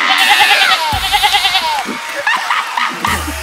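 A voice imitates the bleating of an overfed sheep, giving a few wavering, nasal bleats that blend into loud, lively speech.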